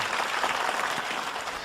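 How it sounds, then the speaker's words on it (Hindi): A short burst of dense audience applause at a Hindi poetry recital, steady and fairly even, heard alone without any voices. "कविता खत्म, तालियां बजाइए।"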